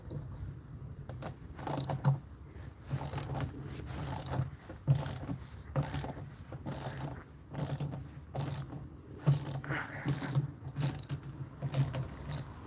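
Ratchet spanner clicking steadily as it backs out the 10mm weight screws on a Beko or Indesit washing machine drum during a teardown, a close, repeated rapid ratcheting in bursts with no talking.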